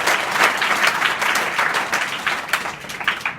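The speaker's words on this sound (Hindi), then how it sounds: "ताली बजाओ इस बच्चे के लिए।" Children in a school classroom clapping together, a dense burst of applause that stays loud and close throughout.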